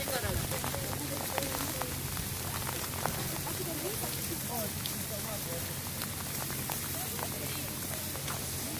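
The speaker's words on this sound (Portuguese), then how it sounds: "E a chuva veio, não teve jeito mesmo." Steady rain falling on a mountain trail at Pico do Jaraguá in São Paulo, a dense continuous patter of drops close by with scattered brighter splashes throughout.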